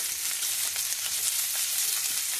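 Chopped onions fry steadily in hot tempering oil, a continuous bright sizzle with small crackles, close and even throughout, no voices over it.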